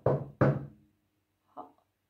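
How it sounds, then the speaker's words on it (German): A door is knocked on three times: two quick, firm raps close together, then a softer single knock after a pause, in a quiet room. "Dann klopft es an die Türe."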